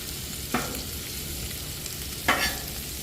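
Hashbrown potatoes fry on a hot Blackstone griddle, giving a steady, moderate sizzle with two brief scraping strokes of a spatula.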